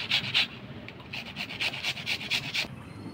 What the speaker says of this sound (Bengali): এখানে দেখেন পেঁয়াজ, টমেটো, আদা, রসুন ঘষনি দিয়ে ঘষে নিব